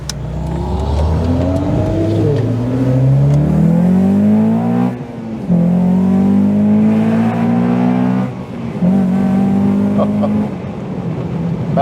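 A Honda Accord's engine revs hard while driving, loud and close, rising through the gears in repeated pulls with brief dips at each shift; a voice is faintly present beneath the engine.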